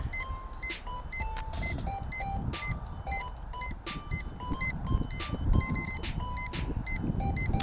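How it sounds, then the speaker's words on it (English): Hubsan X4 Storm H122D quadcopter emitting a rapid series of short, sharp electronic beeps in an irregular pattern after its transmitter is switched off, loud and close over a rumbling background. "here you can see what happens if you turn off the transmitter. The quad then beeps and you can find it if you have lost it."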